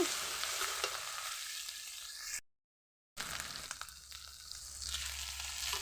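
Rohu fish pieces with turmeric and salt stirred in a hot pan, a steady close sizzle and frying hiss with scraping strokes, cut off by a short gap of silence midway.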